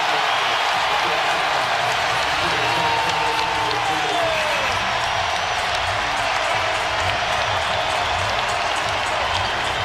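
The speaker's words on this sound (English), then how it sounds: "Luka commits the foul to go out of the game to a standing O." A packed basketball arena crowd roars with applause and cheers in a standing ovation at a Lakers versus Mavericks game, a loud, unbroken wall of noise with a commentator's voice faintly underneath.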